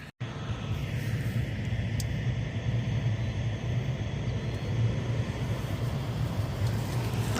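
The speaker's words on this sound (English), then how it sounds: "let's put all that material into our blower here" Blower running continuously to clear collected combine loss material, a steady low roar and rumble that starts abruptly and holds at even loudness, no speech.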